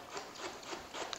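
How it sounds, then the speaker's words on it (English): A mandoline shaves fennel into fine slices in a kitchen, each stroke a short soft rasp, repeated quickly several times at close range. "For the fennel and the red onion, I'm just going to do the mandolin, and we're just going to do it real fine."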